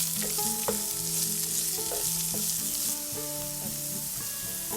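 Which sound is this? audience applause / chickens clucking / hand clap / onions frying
onions frying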